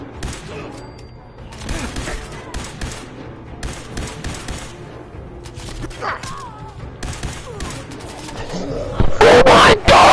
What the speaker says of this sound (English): Come on, that's a laser rifle.